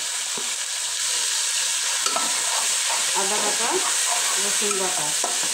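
Ginger and garlic paste frying in a pan for khichuri, a steady bright sizzle with scattered clacks and scrapes from stirring, close and continuous throughout.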